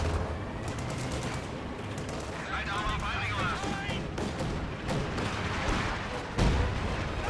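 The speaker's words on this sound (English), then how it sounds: "I think that was major artillery." Heavy artillery barrage in a real-time strategy game, a continuous rumble of booms and crackling gunfire with distant explosions and a louder impact near the end, a voice talking over it.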